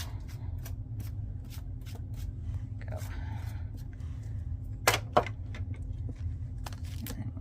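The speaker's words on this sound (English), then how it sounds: "I usually just take my little thing and scrape those off" A small tool scrapes cut paper pieces off die-cut cardstock in quiet, close, irregular scratchy ticks and clicks, with a couple of sharper scrapes partway through.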